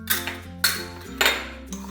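Yeast, sugar and salt being stirred together in a bowl for doughnut dough, four distinct clinks of a utensil against the bowl at an uneven pace, close and alone.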